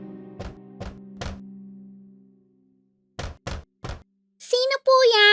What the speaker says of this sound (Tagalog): Pagkatapos ay lumapit siya sa bahay at kumatok sa pinto.